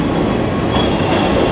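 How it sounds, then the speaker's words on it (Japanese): A JR 381-series limited express train, running as an out-of-service train, rumbles loudly along the platform as it pulls out of the station, with a steady, heavy roar. "3番乗り場から回送列車が発車します。"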